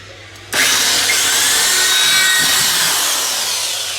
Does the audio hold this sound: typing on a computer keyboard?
no